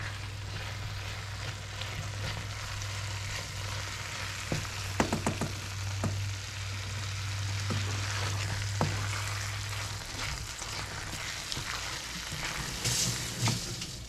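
Spicy chicken gizzard and liver sizzle and crackle in a pan as they are stir-fried together, a steady frying hiss with scattered spatula clinks and scrapes.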